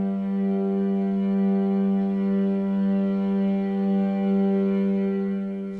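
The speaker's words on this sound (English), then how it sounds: "lay down octave drones using the prototype of woven strings" Sustained octave string drones from the Woven Strings sample library prototype, a steady, rich layered tone with slowly swelling and easing motion from mod wheel movement, heavy with reverb and holding continuously throughout without any other sound.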